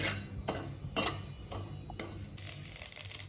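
Dry fruits crackling as they dry-roast in a pan without ghee, heard as several sharp, evenly spaced pops and ticks over a low steady background, close and moderately loud.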